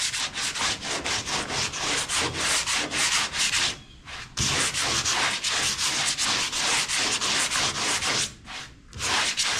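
Coarse 6-grit sandpaper shaves still-tacky Bondo body filler on a 1970 Chevy, giving a loud, steady run of rapid scraping strokes with two brief pauses.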